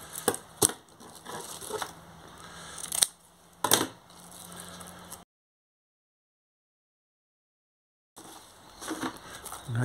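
Sandpaper or backing material is cut to size to cover the base of a hand sander under repair, heard as close, irregular snips and crisp cutting scrapes that stop for a few seconds of silence, then resume.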